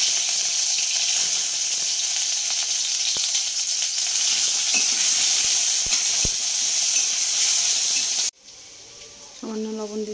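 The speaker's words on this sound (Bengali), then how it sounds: "এইবার পেঁয়াজগুলো ভেজে নেবো।" Onions sizzle loudly in hot mustard oil with black cumin in a wok, a steady crackling hiss that cuts off abruptly near the end, leaving faint clinks and quieter kitchen sounds.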